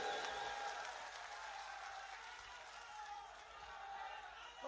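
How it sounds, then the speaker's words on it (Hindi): A large crowd claps continuously at a Madhya Pradesh election rally in Raghogarh for candidate Hirendra Singh, a steady, fairly distant wash of applause. "ताली बजाओ जोर से हिरेंद्र सिंह के लिए।"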